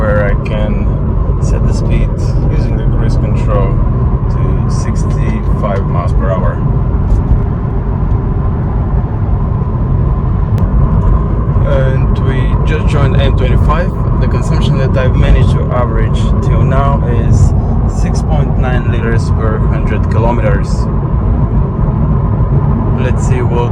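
BMW Z4 3.0 litre on cruise control at a steady 65 mph along the M3 motorway, giving a constant low engine and road drone throughout, with someone talking over it much of the time.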